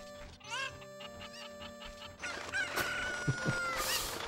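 A chicken crows in the video game Zelda: Ocarina of Time. A loud, warbling crow is followed by sharp squawks and clucks over steady in-game sound.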